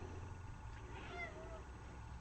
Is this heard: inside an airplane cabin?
no